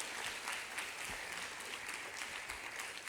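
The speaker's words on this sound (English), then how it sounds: "shall we give them applause just to thank them for doing so?" At a graduation ceremony, a fairly faint round of clapping from the audience continues evenly for a few seconds, heard from some distance.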